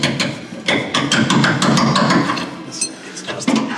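A hammer tapping a leaf spring bushing into place on a vehicle, a series of quick metallic knocks in irregular rhythm, close and fairly loud.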